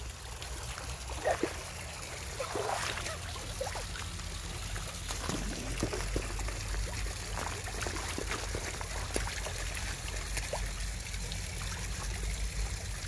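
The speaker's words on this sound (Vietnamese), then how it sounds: "không xa thì nước suối nó mạnh chảy đấy" A mountain stream in Vietnam flows strongly with a constant rushing, gurgling wash and a few brief splashes and clicks, heard up close.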